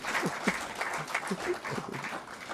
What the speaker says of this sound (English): A round of applause to, I should say, Dr. Joseph Reds Pereira.